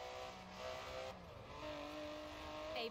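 The 5.2-litre twin-turbo V12 of an Aston Martin DB11 drones steadily at speed in the racing game Forza Horizon 4, a faint continuous engine hum without talk.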